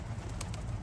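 Racing pigeons coo in a low, soft murmur close by inside a loft, with a faint rustle of wings and no voices.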